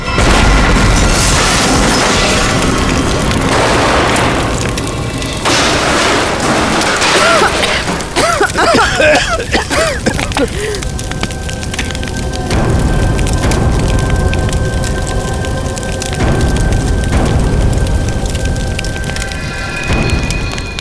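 A bomb explosion in a crime drama scene brings a loud, sustained roar of rumbling blast noise and debris, dense and continuous, with faint sounds mixed underneath.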